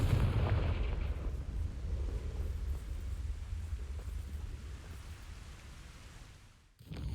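In the video game Hogwarts Legacy, a Confringo fire spell explodes with a heavy booming blast that rolls into a long, fading rumble, then cuts off abruptly near the end.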